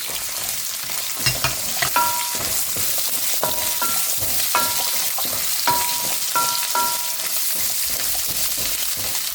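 Carrots fry in a pan after garlic for sweet and sour meatballs, a continuous sizzle broken by repeated metallic clinks and scrapes of a utensil stirring against the pan.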